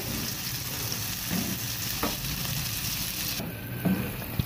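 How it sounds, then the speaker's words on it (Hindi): Steady sizzling of tomatoes, onion and garlic frying in hot oil for palak paneer, with occasional soft stirring scrapes; no voices. "ये देखें टमाटर जो है हमारे भुन चुके हैं।"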